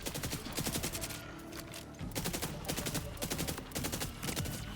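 Rockets and weapons firing in the Borderlands video game: dense, rapid bursts of explosive shots in a steady barrage, loud and continuous with only brief gaps.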